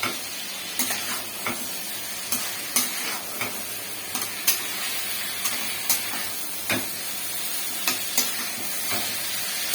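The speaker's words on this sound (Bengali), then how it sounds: "এবারে এটাকে নাড়বো।" A spatula repeatedly scrapes and stirs rohu fish curry with fried vegetables in a sizzling kadai, giving regular sharp strokes about once a second over a steady frying hiss.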